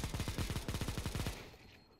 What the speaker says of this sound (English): What's he shooting at?